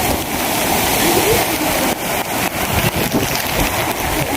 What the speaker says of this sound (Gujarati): જો ફૂલ પાણી જાય છે જોઈ લો